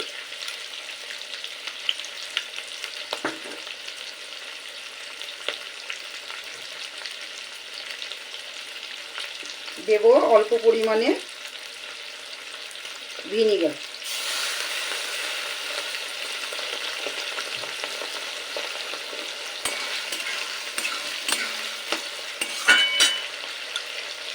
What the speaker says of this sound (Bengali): পেঁয়াজ আর ক্যাপসিকাম একটু নেড়ে নিয়ে দিয়ে দেব মিশিয়ে রাখা সমস্ত সসগুলো